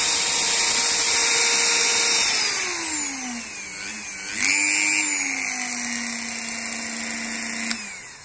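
A Dremel engraving tool whines at very high speed in an apartment, a loud steady electric motor pitch that drops as it slows, then spins up again briefly before winding down.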